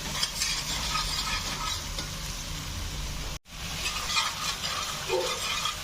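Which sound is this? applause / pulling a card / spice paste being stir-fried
spice paste being stir-fried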